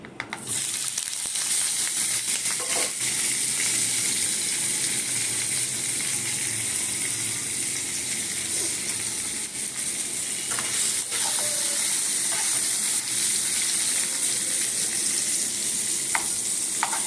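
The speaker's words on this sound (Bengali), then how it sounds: "এবার পনিরটাকে ভেজে নেব" Paneer pieces, coated in turmeric, salt and Kashmiri chilli, fry in refined oil with a steady, loud sizzle throughout, broken by occasional stirring clicks.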